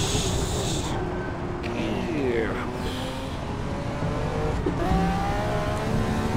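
Simulated 1966 Ferrari Formula 1 car racing at Spa in wet conditions in Assetto Corsa, engine whining through rising gear sweeps and revs under a broad rushing hiss, with someone talking over it.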